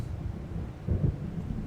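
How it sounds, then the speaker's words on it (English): Thunder from a storm rolling in over open water in the Alan Wake video game: a low, muffled rumble that swells briefly near the middle against a steady dark background. "It seems there's a storm coming."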